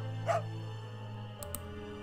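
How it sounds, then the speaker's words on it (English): A woofing dog cuckoo clock in the Nancy Drew video game gives a single short bark near the start. It sounds over steady game music, with two faint clicks later and no talk. "If I don't get me a doggy woofing cuckoo clock"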